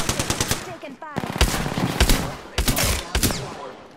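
Gunfire in the Apex Legends video game, rapid bursts of automatic fire in quick loud runs broken by short pauses, with sharp single shots and a voice speaking briefly among them.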